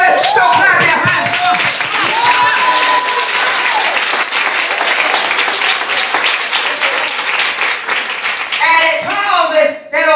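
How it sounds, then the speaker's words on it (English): A church congregation claps hands loudly and continuously, with voices shouting and talking over the dense, steady clapping throughout. "So clap your hands."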